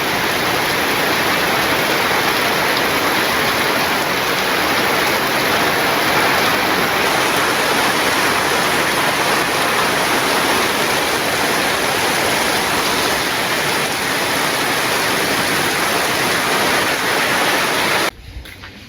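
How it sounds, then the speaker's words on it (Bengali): Heavy rain falling steadily and loudly, a dense continuous hiss that fills the whole span and cuts off abruptly near the end. "যে বৃষ్টি নামছে"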